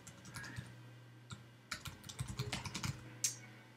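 Computer keyboard typing, entering a web address into a content management system: bursts of quick key clicks with brief pauses, close and fairly quiet, with no speech.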